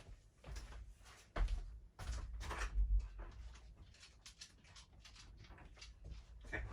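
A door is handled to let a dog in, with a sequence of soft knocks, clunks and rattles across several seconds, quiet and close, including a couple of heavier bumps near the start and no voices.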